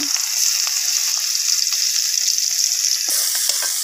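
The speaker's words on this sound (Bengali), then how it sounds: "এই যে এখন কড়াইতে তেল দেওয়া হয়েছে। এই যে পেঁয়াজ কুচি দিয়ে দিল" Chopped onion sizzles and fries in hot oil in a wok over a clay stove, a steady bright crackle with occasional stirring clicks, close and continuous with no talk.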